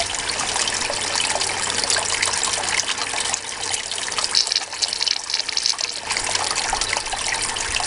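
A snuffer bottle sucks up wet gold concentrates from a sluice cleanup, giving a steady close watery gurgle and trickle of liquid and grit running continuously with no talking.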